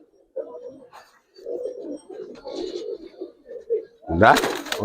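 Coloured pigeons, just released by a breeder, give low, repeated throaty coos close by, with a burst of voices and rustling near the end.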